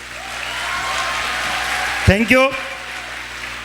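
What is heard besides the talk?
audience applause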